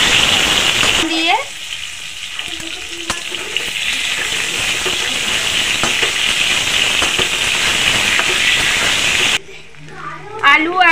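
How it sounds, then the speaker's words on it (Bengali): Potatoes and green banana frying together in hot oil for a katla fish curry, a loud continuous sizzle and hiss with occasional stirring scrapes, easing off near the end before brief crackles return. "গরম তেলের মধ্যে আলু আর কাঁচকলা দুটোই ভেজে নেব একসাথে।"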